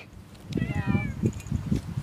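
A cat meows in a short rising and falling call near the start, set against a busy low rumble of background noise and possible voices.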